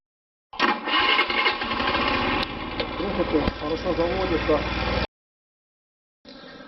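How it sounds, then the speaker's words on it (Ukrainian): A small petrol scooter with an ignition fault starts and runs roughly for several seconds, its engine buzzing loud and close, then cuts out and briefly fires again. "зараз покажу, як скутер заводиться"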